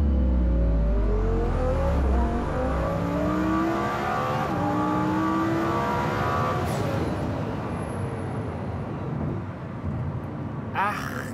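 A 1500 PS Lamborghini Huracán Performante tuned by Klasen-Motors accelerates hard in a loud, close, continuous roar, its engine note climbing through rising gear sweeps before easing slightly near the end.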